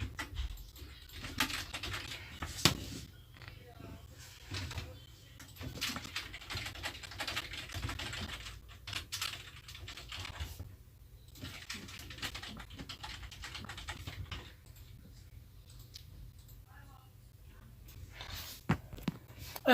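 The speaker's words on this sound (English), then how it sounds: "I'm typing it right now." Fingers tap steadily on a computer keyboard, with quick, uneven clicks that continue close and fairly quiet, pausing briefly here and there, with no speech.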